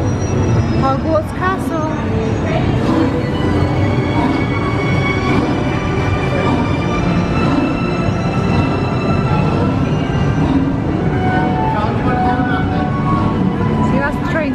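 An amusement park train ride rumbles steadily along with a continuous mechanical roar and clatter, while people talk over it throughout.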